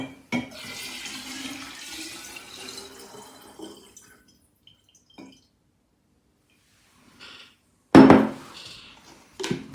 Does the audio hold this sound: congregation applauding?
no